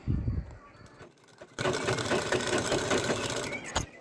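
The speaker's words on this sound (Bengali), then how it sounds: "এরপর সেলাইয়ের কাজ শুরু করলাম" A sewing machine stitching a bolster pillow cover starts up after a brief stretch of handling noise and runs steadily, close and fairly loud, for the rest of the moment.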